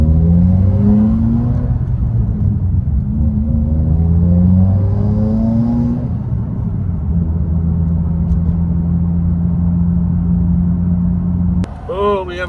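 A Subaru WRX with a Stage 2 tune drives along, its engine droning steadily and rising in pitch through several rev climbs, loud and close inside the cabin, with a brief sharp knock near the end.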